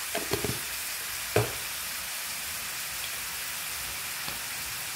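Two pieces of mackerel seasoned with pepper fry in a pan with a steady close sizzle and a few sharp spits and pops standing out early on.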